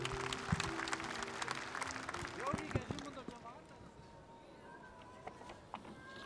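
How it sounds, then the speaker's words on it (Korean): Warm crowd applause greeting South Korea's National Assembly speaker at a memorial ceremony for former president Roh Moo-hyun, dense clapping at first that thins and fades out, with scattered voices and stray noise beneath. "뜨거운 박수로 맞아주시기 바랍니다."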